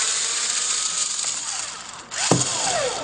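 A small screw is unscrewed from an HP 1215 toner cartridge with a power driver, a high buzzing whine that dips, stops briefly, then restarts with a sharp ratcheting click.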